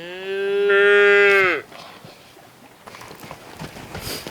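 A cow lets out one loud, long, sustained moo during traditional milking, with her calf first brought to suckle. Quieter clattering and knocking follow once the call stops.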